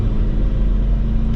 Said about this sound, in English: the turbo still spools up